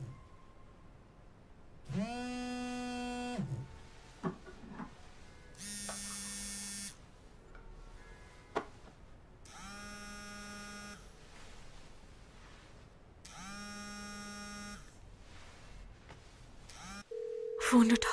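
A phone rings with an incoming call in repeated electronic bursts of a few seconds each, separated by short pauses, loud and close with no talk over it.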